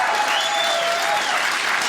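Stand-up comedy audience gives veterans a sustained burst of clapping, a dense and even wash of applause filling the room.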